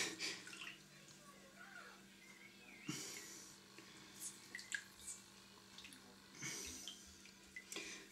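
Ginger beer bug liquid strained into a container: a soft, quiet trickle and drip of liquid with a few faint clinks and handling knocks, close by, and a voice speaking briefly.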